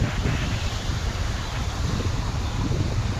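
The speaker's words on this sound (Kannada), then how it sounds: "ಗಾಳಿ ಅಂತೂ ತುಂಬ ಸೂಪರಾಗಿ ಬರ್ತಾಯಿದೆ" Strong wind buffeting the microphone in a constant roaring rush, loud and steady throughout with no voices.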